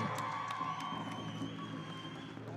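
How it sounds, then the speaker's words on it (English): A distant crowd cheers and applauds at the Northern Plains Jingle Dress Championships powwow, faint and steady throughout, with scattered whoops rising from the din. "How about a big round of applause right here?"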